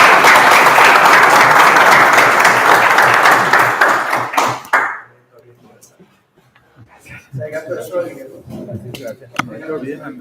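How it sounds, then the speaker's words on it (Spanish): Audience applause at a Spanish-language physics talk on elementary particles, loud dense clapping for about five seconds before cutting off, followed by quieter conversation among people in the room. "otro aplauso"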